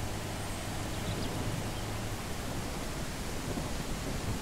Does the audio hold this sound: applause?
no